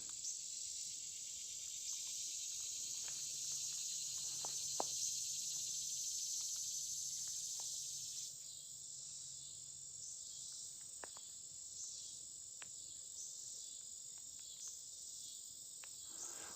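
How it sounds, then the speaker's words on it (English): Crickets and other singing insects on a prairie trail in the evening, a steady high shrill chorus that never stops, with faint scattered clicks and no talk. "A lot of singing insects out and about."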